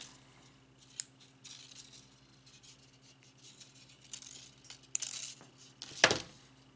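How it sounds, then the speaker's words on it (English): Small wire cutters snip vape coil wire with a sharp metallic click near the end, preceded by a few faint clicks and handling rattles in a quiet room. "Cut the wire."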